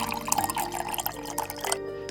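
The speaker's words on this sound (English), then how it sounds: "then add water" Water is added to sugar in a pot while making salted caramel sauce, a short trickling and dripping pour heard close up for about two seconds.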